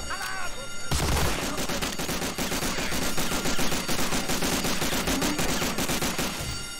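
Dense, continuous automatic gunfire rattles loudly in the World War II shooter game Medal of Honor: Allied Assault, with rapid overlapping shots filling the whole stretch after a short lead-in.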